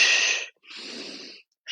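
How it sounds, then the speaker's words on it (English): A person draws a sharp breath in through the nose, then exhales slowly and steadily through pursed lips, close and clear, with another inhale starting at the end. "breathe in through nose, out through a pursed sound"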